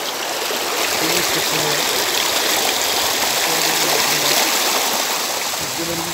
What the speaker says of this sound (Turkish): Bayağı bir göl oluşturmuş aşağıda şelale.